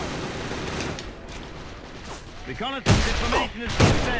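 Gunfire in the online shooter A.V.A during a tank-escort mission, with a few bursts of shots and two loud, sharp blasts near the end under a player's talk.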